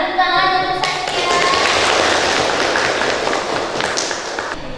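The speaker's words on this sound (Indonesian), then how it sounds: "Tepuk tangan untuk Saskia" Classroom applause for a student, a burst of children clapping close and loud that follows a brief tone and holds steadily for a few seconds.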